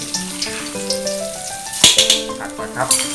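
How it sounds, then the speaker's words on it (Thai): Garlic, coriander root and pepper stir-fry in about two tablespoons of oil in a wok, giving a steady sizzle with a few sharper bursts near the end, partly under background music. "ผัดให้หอมๆก่อน ผัดจนมีกลิ่นหอมเลยนะครับ"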